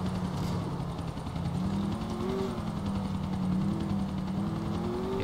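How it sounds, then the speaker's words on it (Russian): Helicopter flying in the video game GTA IV, a steady droning rotor and engine hum that stays loud and continuous, with no talk over it. "Следующий за вертолетом, сейчас попробуем."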